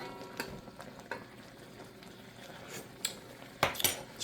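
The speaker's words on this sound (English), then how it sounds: "So we'll keep on sauteing it." Seafood and vegetables being sautéed in a pan for Cantonese pan-fried noodles, heard as faint scattered clinks and scrapes of a utensil against the pan over a quiet background.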